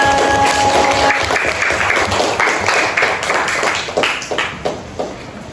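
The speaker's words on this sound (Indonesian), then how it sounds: "Oke, tepuk tangan untuk kita semua." A class of elementary school children claps together in a classroom, a loud, steady wash of hand claps that thins out and trails away toward the end.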